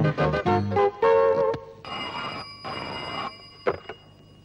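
A telephone rings on an outgoing call: several clear electronic ringing tones, some in quick pulses and some longer, close and fairly loud, ending with a couple of short clicks.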